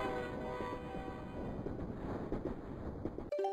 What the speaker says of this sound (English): There's a train underneath this bank in the middle of the desert.